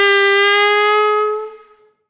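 One sustained saxophone note with a full, buzzy tone, scooped from below but never reaching pitch, held slightly flat and then tapering off, no other sounds.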